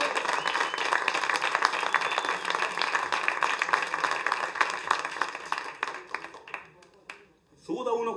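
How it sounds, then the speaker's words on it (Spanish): An audience at a live comedy show applauds densely and at length, the clapping thinning out near the end as it fades, before a voice briefly breaks in. "Y este aplauso que salga reflejado para Chile y todo el mundo."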